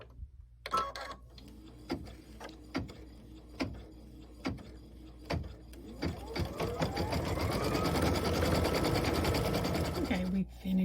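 An embroidery machine stitches a quilt block: a rhythmic mechanical whirring with periodic clacks that builds into continuous steady stitching, close and moderately loud.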